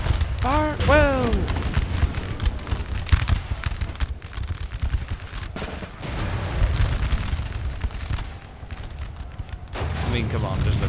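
Cannon volleys and gunfire boom across a Napoleon: Total War battlefield, several heavy blasts in a dense, continuous din, with a voice briefly heard over the noise.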